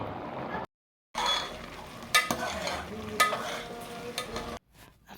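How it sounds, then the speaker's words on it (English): Coconut milk stirred into rice that is nearly done cooking in a pot: scraping stirs over a soft bubbling sizzle, with a few utensil clinks and brief silent breaks. "I'm going to add this heavy cream or heavy coconut milk that we have made right now."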